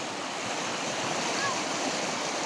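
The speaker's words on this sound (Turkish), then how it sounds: "ırmağın sesini kısa bir dinletmek istiyoruz" A clean river flows near a waterfall by Hacırlı village in rural Sivas, a steady, broad rushing wash of water close by with no breaks.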